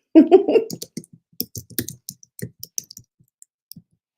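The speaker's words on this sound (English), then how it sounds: "I can't type and I can't type and talk at the same time" Keyboard typing at a computer: a sparse series of distinct clicks, close and fairly loud, starting with a brief murmur of voice, then mostly isolated keystrokes against silence.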